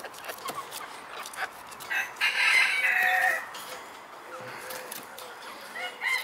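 Hens cluck and a rooster crows in a backyard flock, with scattered clucks throughout and a louder burst of crowing in the middle, moderately near.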